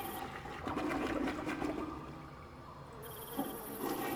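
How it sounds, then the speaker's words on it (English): Water rushes through a toilet flush in Team Fortress 2, a steady gurgling whoosh that peaks early then tapers off, with a faint second surge; no talking. "You're going to want to flush it 3 times."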